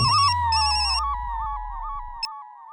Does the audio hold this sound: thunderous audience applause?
no